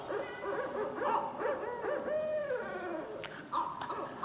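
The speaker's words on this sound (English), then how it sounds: "You're hearing dispute vocalizations with two pairs of territorial owls." Two pairs of territorial screech owls trade dispute calls, with faint, wavering whinnies and trills overlapping back and forth, quiet and somewhat distant, with a brief sharper note near the end.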